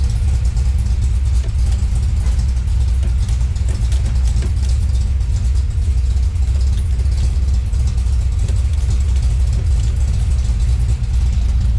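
A Ford XE Falcon's engine runs steadily after a manual-to-automatic transmission swap, making a loud, close, continuous low rumble at a constant idle with no noticeable revving.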